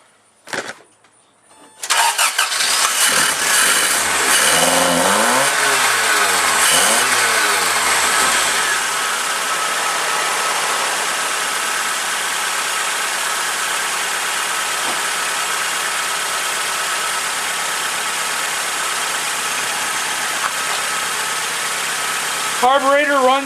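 A Toyota AE86 with a carburetor cranks briefly and fires up, revs loudly for a few seconds, then settles into a steady, close idle that runs on evenly without talk.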